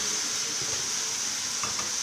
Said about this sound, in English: We'll fry this for about half a minute.